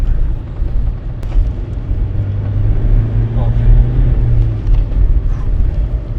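Military vehicle pulling away during an escape near Pokrovsk, Ukraine, a loud continuous engine drone with rumbling road noise, heard from inside the vehicle under intermittent talk.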